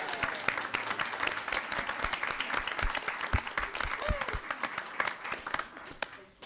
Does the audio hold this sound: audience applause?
yes